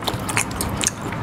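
A fruit with a sour peel is bitten into, giving several short crisp crunching and snapping sounds close up, with no talking.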